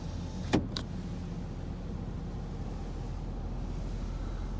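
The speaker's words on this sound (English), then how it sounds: "power back window." Power rear slider window on a 2019 Nissan Titan XD Rocky Ridge Stealth pickup gives a brief sharp click or clunk, then a quick second tick, over a steady low cabin hum with no talking.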